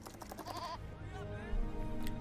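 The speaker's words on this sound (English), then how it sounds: "Sheep?" A sheep bleats in a film scene, a single wavering bleat followed by muffled background voices and room noise.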